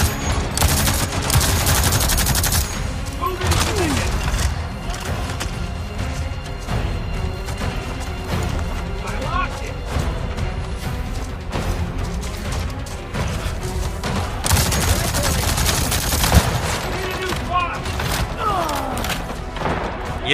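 Sustained bursts of automatic gunfire in the video game Avatar: Frontiers of Pandora, loud and dense, with rapid rattling volleys peaking at the start and again near the middle amid mechanical clatter and impacts.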